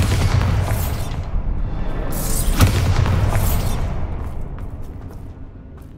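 A Bombarda blasting spell detonates in the Hogwarts Legacy video game: a loud, deep explosive boom with a roaring, rumbling tail, heavy bursts near the start and around the middle, then a slowly fading rumble.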